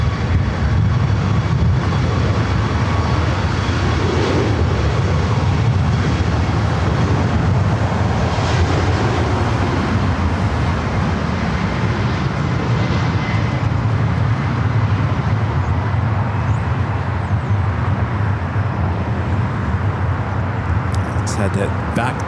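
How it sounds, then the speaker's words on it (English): A Boeing 767-300ER heavy arriving from JFK on short final to runway 24R at Los Angeles International Airport; a loud, continuous broadband jet roar sustained throughout, with a commentator talking over it. "The flight coming in from JFK, 767. 300 ER, short final for 24 right."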